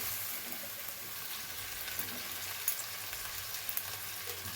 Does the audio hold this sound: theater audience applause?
no